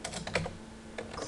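Typing on a computer keyboard, a quick run of light key clicks in short clusters with a pause in the middle, close and fairly quiet.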